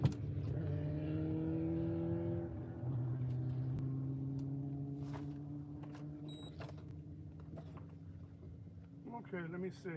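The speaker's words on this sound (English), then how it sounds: "somebody's riding a motorcycle" A motorcycle rides past a campsite in the Hualapai Mountains, its engine drone rising and holding steady for several seconds before easing off, heard from a moderate distance with a voice speaking over it.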